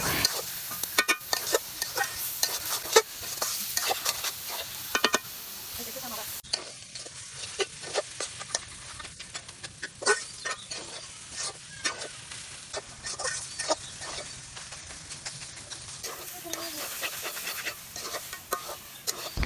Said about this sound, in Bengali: এই তরকারিটা অনেক নাড়তে হয় না হয় নিচে লেগে যায়